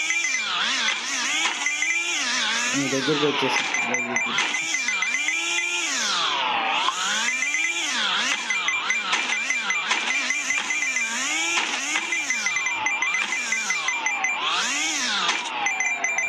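A motorbike engine revs hard and fast in the Hill Climb Racing video game. The synthetic whine rises and falls in constant high-pitched sweeps, loud and continuous, with a brief voice over it.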